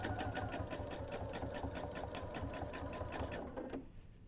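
Sewing machine stitching along the edges of quilt-as-you-go hexagons, a steady rapid mechanical chatter close by that runs evenly, then slows and stops near the end.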